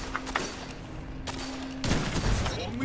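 Gunfire in the game Trials: brief bursts of shots through the first half, then a louder, denser volley of rapid fire in the last second, with a steady electronic tone underneath.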